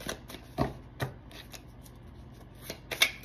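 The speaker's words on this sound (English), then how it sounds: "Sitting here and shuffling in front of y'all for hours at a time" Tarot cards being shuffled close by, a few crisp riffles and flicks scattered over a few seconds with quiet gaps between.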